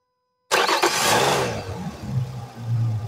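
An outboard motor on an Aqualine 7 motorboat starts with a sudden cranking burst, then settles into a steady, fairly loud running hum for a few seconds.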